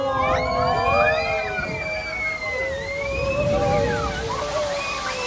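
A tram on a wildlife tour at Dogwood Canyon Nature Park, Missouri, splashes and sloshes through water for several seconds, with voices crying out and shrieking over the rushing wash.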